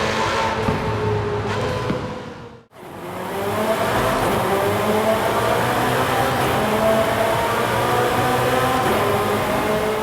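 A car engine in the Forza Horizon racing game roars inside a tunnel, its loud revving echoing and reverberating, briefly dropping away near the start before surging back and holding a sustained, echoing drone.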